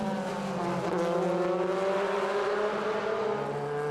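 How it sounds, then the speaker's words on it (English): DTM touring cars, German Touring Car Masters machines from 2004, race around the roughly two-kilometre Adria Circuit in Italy, their engines droning loudly and shifting in pitch as they pass close by, with no talking. "What a race between them, almost touching almost all the way around this just over 2 kilometers of Adria Circuit"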